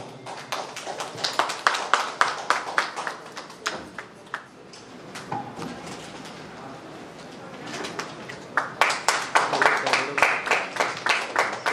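An audience claps at a musical party. Steady rhythmic applause comes first, then thins out and swells again toward the end, with a voice talking between the bursts.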